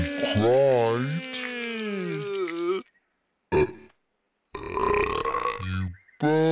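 A cartoon baby piglet from Peppa Pig burps in a few short voiced bursts, loud and close, between stretches of character speech and silence.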